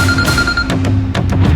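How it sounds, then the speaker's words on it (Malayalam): A telephone rings loudly and close by, its steady electronic tone giving way to repeated short ring bursts, in a domestic scene from a Malayalam television serial. "ഫോൺ അടിക്കുന്നു."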